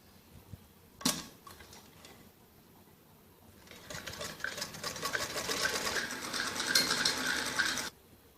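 A sewing machine stitches a shoulder strip onto a jacket frock, running as a steady whir for about four seconds after a sharp click and a quiet stretch.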